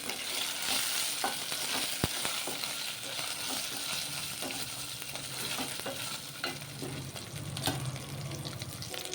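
Onions fried until reddish-brown for chicken pulao sizzle steadily in a pan, while a spoon scrapes and stirs through them in repeated knocks and scrapes.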